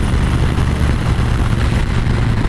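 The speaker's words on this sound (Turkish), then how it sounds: "gene de egzoz sesini alıyorum" A low, steady engine rumble with a throbbing exhaust tone, mixed with wind noise, continues without break.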